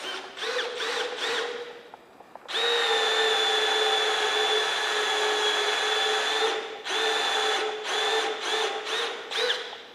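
A power drill bores into timber with a loud, high motor whine, first in several quick bursts, then a long continuous run, then more short bursts.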